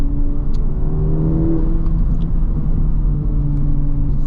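A 2023 Honda Civic Type R pushed fast, heard from inside: a low steady engine drone shifts pitch slightly as revs change, over constant road rumble and wind.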